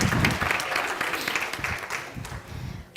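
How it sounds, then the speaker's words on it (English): An audience at a formal gala dinner for an energy summit claps in a loud, dense burst of applause that thins out and tapers off over a few seconds. "Please give him a round of applause."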